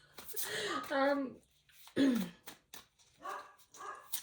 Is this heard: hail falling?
no